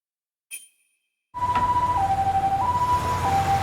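An ambulance siren sounds in the Lost Judgment video game, wailing loudly and steadily in a two-tone pattern after a short faint blip and a moment of silence.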